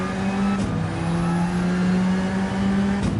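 Race car engine holding a steady, loud drone with sustained harmonics in the Grand Valley racing game, with brief shifts near the start and end and no talk over it.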